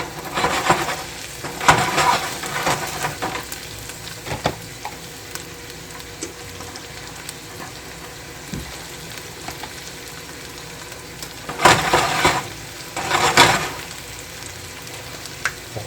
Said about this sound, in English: Just going to cook it until it's cooked all the way through.